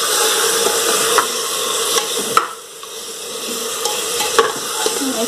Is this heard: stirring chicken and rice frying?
yes